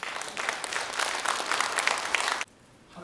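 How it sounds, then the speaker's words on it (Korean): A church seminar audience applauds warmly as a pastor comes forward to give a testimony, steady dense clapping filling the room for over two seconds before cutting off abruptly into quiet. "목사님 나오실 때 큰 박수로 맞아주시기 바랍니다"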